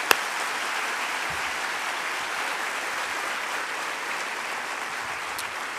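Steady applause from a convocation audience at CSULB honoring campus leaders, a dense, even wash of many hands clapping that holds throughout without a break or any voices.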